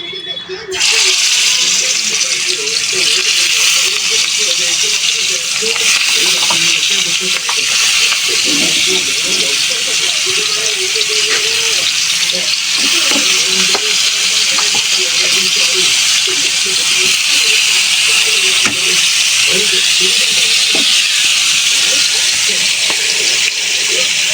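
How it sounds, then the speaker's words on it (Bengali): Fish sizzles steadily in hot oil in a pan during home cooking, a loud continuous hiss and crackle lasting the whole time with no talk over it. "তেল গরম হয়ে গেছে, মাছগুলো এবার দিয়ে দেবো।"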